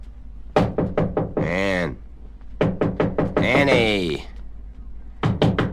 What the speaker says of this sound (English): he pounds on the door of your room